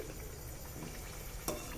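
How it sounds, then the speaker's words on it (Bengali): Lobongo lotika, clove-sealed Bengali pastry sweets, sizzle and fry steadily in hot oil for a homemade sweet-shop recipe, a close continuous crackle with one brief sharper spatter. "লাল লাল করে ভেজে নিয়েছি"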